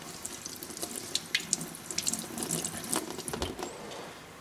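A sharpening stone from a TSPROF Kadet Pro sharpening system is rinsed under a running tap, with close splashing and dripping water in a sink for a few seconds, no voices.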